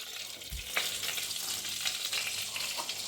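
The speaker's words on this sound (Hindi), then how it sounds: "मैंने कढ़ाई में थोड़ा तेल चढ़ाया है। इसमें मैं डाल दूँ थोड़ा जीरा" Cumin seeds sizzle in hot oil in a kadhai, a steady bright frying hiss at close range with a soft thud as the seeds drop in, and no voices.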